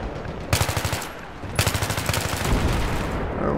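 Battlefield 3 gunfire on the Markaz Monolith map in Rush mode: two loud machine-gun bursts of rapid, even shots, close and harsh, with a rumbling explosion wash filling the gaps and the tail.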